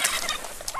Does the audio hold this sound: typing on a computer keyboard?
no